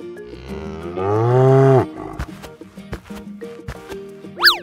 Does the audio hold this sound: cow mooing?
yes